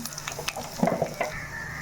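Two dried chilies fry in hot oil that crackles and sizzles steadily, with small pops and spits rising over a continuous frying hiss.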